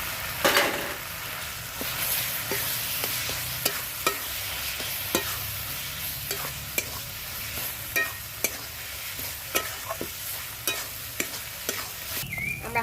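Spice masala with ground peanut paste fries in oil for a jackfruit chicken curry, a steady sizzle punctuated by regular scrapes and knocks of the stirring spoon against the pan, close and without speech.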